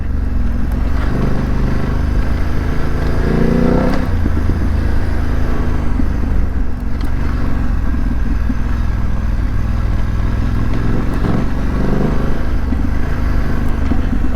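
BMW F900GS motorcycle ridden on a mountain dirt road, its engine droning loud and continuous with rumble and gravel clatter beneath heavy wind buffeting, close and unbroken throughout.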